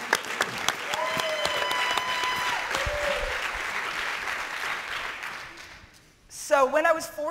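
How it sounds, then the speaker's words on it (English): Audience at a startup pitch event applauding, a sustained wash of clapping that gradually fades out before a speaker's voice returns. "Big round of applause."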